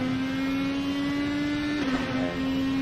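Race car engine in a racing video game on the Daytona Road Course, a steady high-pitched drone held under power with a brief dip and recovery near the end, loud and continuous with no talk.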